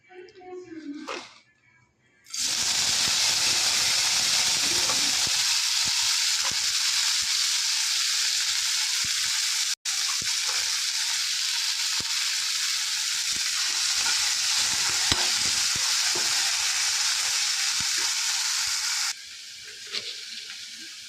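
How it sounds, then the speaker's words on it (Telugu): Tamarind leaves frying in a pan for a peanut chutney, a loud, steady sizzle and hiss that starts abruptly and runs unbroken for most of the stretch, with brief stirring scrapes and a quieter moment before it begins. "చింత చిగురు వేగిపోయిందండి"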